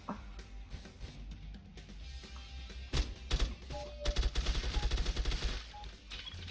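Gunfire in the video game Reservoir Dogs: Bloody Days, a quick run of sharp shots building into rapid bursts of automatic fire, fairly faint and clipped, with no voices over it.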